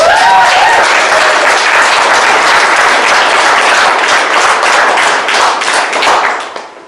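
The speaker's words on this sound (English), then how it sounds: "Let's give him a round of applause." An audience at a community justice event gives a round of applause for Nathan Carpenter, loud, dense clapping that holds steady and then tapers off near the end.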